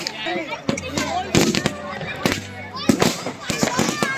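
Diwali fireworks rockets go off around an army camp's quarters in Indore, a rapid run of sharp cracks and bangs at varied distances, with voices in the background.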